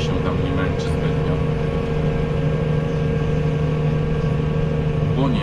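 Tractor engine running steadily in a field during quick stubble ploughing, a continuous low droning hum at even pitch, fairly close, without revving, no talk.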